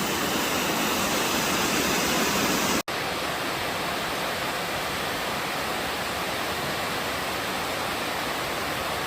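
American Falls on the Upper Priest River Trail, a waterfall dropping about 40 feet into a pool, gives a steady, dense roar that fills the scene, with a brief dropout partway through and no voices.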